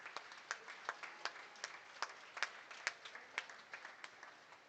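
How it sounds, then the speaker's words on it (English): Audience at a goat showmanship event at the State Fair of Virginia applauds in a faint, distant patter of fairly regular claps that lasts several seconds, with no talking. "please join me in a round of applause for our amazing colleague"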